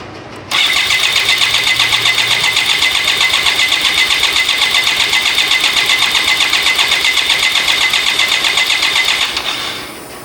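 A BMW K75RT motorcycle engine cranks and fires, then keeps running loud and close in a steady, even drone until it dies away at the end.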